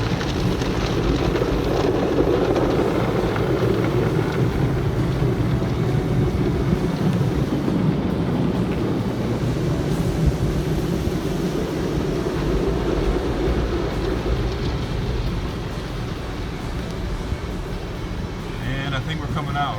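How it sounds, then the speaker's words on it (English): Automatic car wash running over a 2013 Dodge Avenger SE, heard from inside the car as a steady, loud rumble and wash of spraying water and brushes lasting throughout, with a little talking over it. "So this is the first time I'm going through the car wash with my Avenger."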